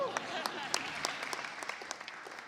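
Audience applause at a press conference on mental health at West40 Safe School, a short, fairly quiet patter of scattered claps from a modest crowd with sharp individual hits standing out.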